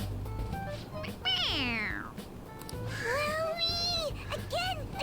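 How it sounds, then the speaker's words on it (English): A squeaky toy cat in the Persona 5 Royal video game meows when its head is pressed, giving a couple of bright, rising-and-falling electronic mews over a low game music bed. "It meows when you press on its head."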